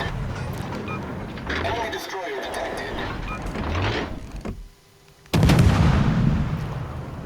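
Naval gunfire in World of Warships, a sudden loud booming salvo after a brief hush, with a rumbling low-end tail, over earlier game noise and a spoken voice.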